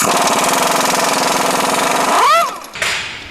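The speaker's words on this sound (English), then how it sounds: "now I'm going to remove the bolts and the nuts from the cutting edge itself." A pneumatic impact gun with a 15/16 deep-well socket hammers steadily on the bolts and nuts of a snowplow cutting edge, loud and continuous, then spins down and stops near the end.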